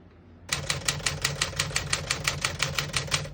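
Keys of a 1958 Smith-Corona Clipper portable typewriter strike in a quick, even run of about fifteen sharp clacks, close up and with no voices.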